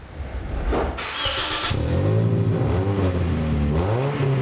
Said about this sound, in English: This car clearly has an exhaust leak and we're gonna fix that